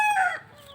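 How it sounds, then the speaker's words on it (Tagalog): A backyard chicken suffering from fowl pox gives a single short, tonal call up close, lasting under a second. "Yung manok natin"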